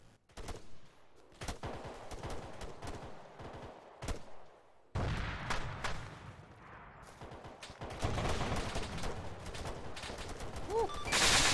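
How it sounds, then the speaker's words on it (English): Gunfire in the military shooter ArmA 3 during a road ambush, scattered cracks and bursts, some close and loud, others distant, over busy background noise. "We're taking fire from directly down the road."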